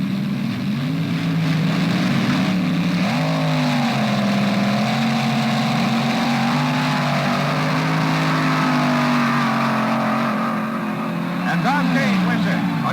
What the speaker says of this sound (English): In the far lane, the Beard freight train from Santa Monica, twin Chevy engines, Floyd Lippincott Jr. driving.